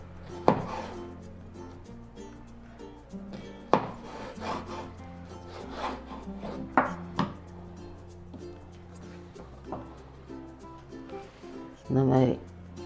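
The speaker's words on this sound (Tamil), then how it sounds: "தோலை உரிச்சிட்டு இந்த மாதிரி நீளமாக கட் பண்ண போகிறேன்" A knife cuts lengthwise through peeled nendran plantain, giving several soft, dull chopping strokes on a board at irregular intervals while a voice talks throughout.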